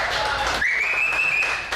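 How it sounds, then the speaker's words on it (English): Comedy club audience at The Corbin Bowl giving a round of applause, a brief burst of clapping beneath a faint whistle-like tone and some voices. "how about another round of applause for Brooke being up here"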